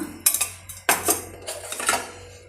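A metal spoon stirs soaked sabja seeds into watermelon juice, giving several bright clinks and scrapes against the glass in uneven bursts, close and fairly loud, with no talking.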